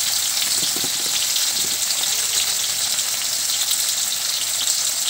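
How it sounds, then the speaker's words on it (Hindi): Paneer cubes fry in hot mustard oil in a home kitchen, a close, steady hissing sizzle like fine rain, even in loudness across the whole stretch with no voices. "मस्टर्ड ऑयल गर्म हो गया, पनीर डाल दिया गया है अभी।"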